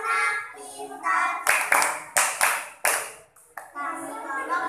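Children in a fourth-grade primary school classroom clap hands in rhythm during a chant, sharp bursts of claps between and under their sung and spoken voices.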